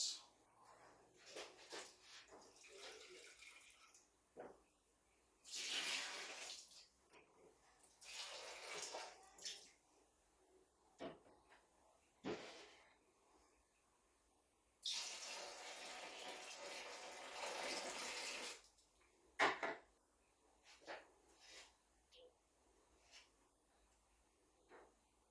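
Hot water poured onto malt while homebrewing a pilsner, heard as several bursts of splashing, gurgling pour at close range, each a few seconds long, separated by quieter handling clatter.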